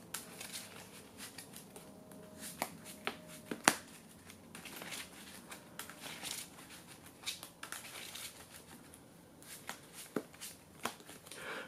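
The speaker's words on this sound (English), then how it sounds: "So if we shuffle this up," A deck of Yu-Gi-Oh trading cards is shuffled by hand, giving quiet, close, irregular riffling and patting with a few sharper card snaps, without talk.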